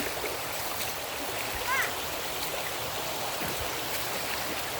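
A river stream flows steadily, a constant broad rushing wash of water that stays even throughout, with a faint brief chirp near the middle.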